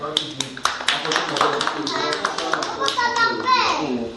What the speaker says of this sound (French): Applaudissez pour Madeleine.